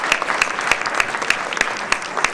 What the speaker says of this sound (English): Applaud yourself.